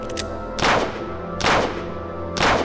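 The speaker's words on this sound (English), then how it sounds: "we shoot him in cold blood" Three gunshots from a handgun in the adventure game Necronomicon: The Dawning of Darkness, set in an asylum, fire about a second apart as sharp, loud bursts over a steady low game hum.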